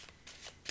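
A Gold and Black Tarot deck is shuffled by hand in a brief, soft burst of papery card riffles, quiet and close.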